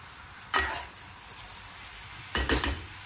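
Ivy gourd (tindora) pieces cooking in oil in a pan, with two short bursts of stirring and sizzling, one near the start and a longer one near the end, separated by a quiet low simmer.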